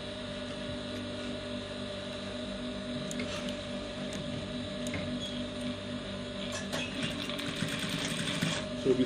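An electric sewing machine stitches a trouser with a belt, zip and button, running in a steady, continuous mechanical whir at moderate distance, with faint ticks and rustles of fabric handling.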